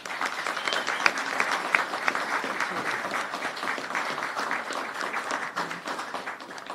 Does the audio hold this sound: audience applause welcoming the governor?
yes